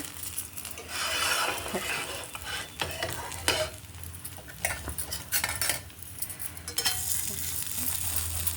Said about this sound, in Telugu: ఇంకా ఇది ఒకవైపు వేగుతున్నాయి